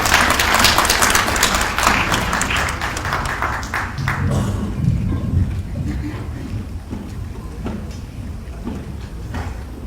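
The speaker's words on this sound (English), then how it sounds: "please give her a round of applause as she comes to speak to us" An audience at a speech applauds, a thick burst of clapping that gradually thins and fades over ten seconds, with some voices and background noise mixed in.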